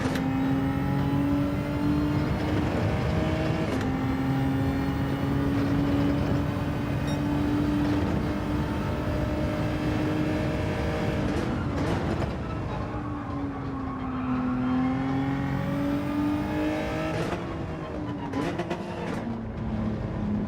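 Racing car engines in Gran Turismo 7 during an online lobby race, with a Lamborghini close behind: a loud, continuous engine drone whose pitch rises and falls with shifting and braking, with no talk.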